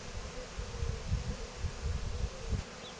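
Bees buzz steadily around an opened Dadant hive during a colony transfer to a fresh, dry box, a close, continuous hum with swelling and fading wingbeat drones.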